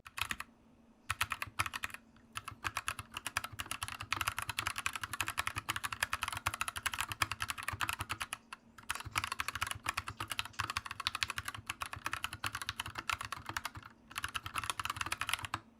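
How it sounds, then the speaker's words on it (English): Rapid, clicky keystrokes on an Anne Pro 2 wireless mechanical keyboard tap continuously during a typing test, with a few brief pauses between bursts of typing. "let's get on with a typing test"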